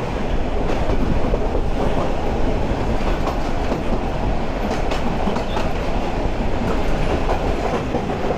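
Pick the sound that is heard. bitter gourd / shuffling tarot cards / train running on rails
train running on rails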